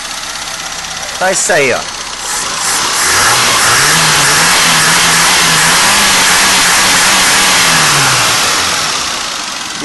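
A Fiat Fiorino engine fitted with a freshly restored Weber TLDF carburetor runs steadily and close by, rising from idle into a sustained rev that holds and then settles, with brief talk near the start.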